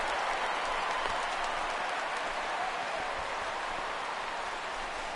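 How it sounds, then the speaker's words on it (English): A baseball stadium crowd at a Cubs versus Reds game reacting to a fly ball, a steady distant wash of murmuring and cheering voices with a few faint claps. "This crowd oohs and ahs every time this guy hits a fly ball."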